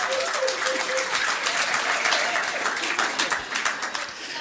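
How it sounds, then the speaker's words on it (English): A pub quiz audience applauds at The Granta, steady mixed clapping from a small crowd lasting several seconds, fairly close and full. "Give them a round of applause"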